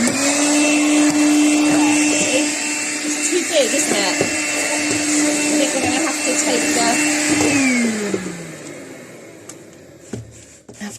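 A battery-powered hoover vacuum cleaner whines loudly and steadily close by, its motor pitch dropping as it switches off near the end, with someone talking over it.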